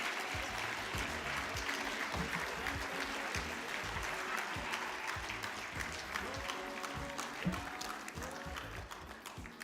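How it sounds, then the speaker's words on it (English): A large audience at a national construction summit claps in sustained applause. The sound is fairly distant and even, with a few voices briefly audible. "Let's give a big round hand of applause."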